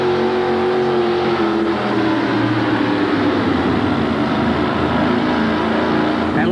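A new Chevrolet pickup engine roars loud and steady at a truck pull, the strain holding at a constant heavy drone with no break.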